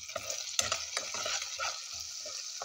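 Ginger and cherry tomatoes frying for pinakbet, a soft sizzle under repeated scrapes and knocks of a spoon stirring in the pan, close and fairly quiet.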